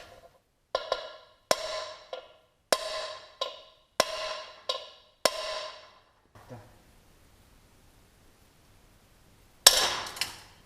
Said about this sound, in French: On va essayer de taper dessus un peu pour décoller.